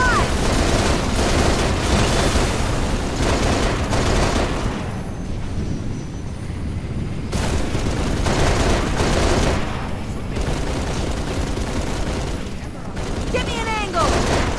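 Dense, sustained automatic gunfire and explosions in the Halo Reach New Alexandria mission, loud rapid bursts with brief lulls and shouted voices mixed in.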